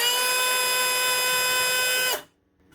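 A DeWalt concrete vibrator refitted with a Makita motor whines with a steady, loud, tonal hum carrying coupler noise, then cuts off abruptly and winds down near the end.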